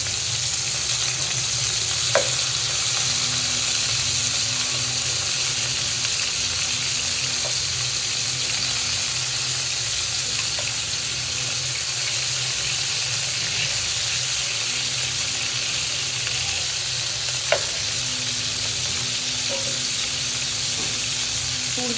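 Pieces of farm chicken fry in a pan with a steady, close, loud sizzle and crackle that runs throughout, broken by a couple of sharp clicks from the pan.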